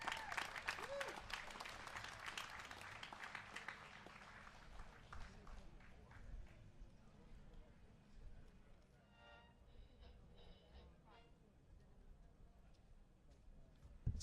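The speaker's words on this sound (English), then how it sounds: "Let's give my man a round of applause over here." A crowd at an outdoor peace and freedom rally claps loudly at first, then the applause thins out and trails off into quieter background noise with scattered voices.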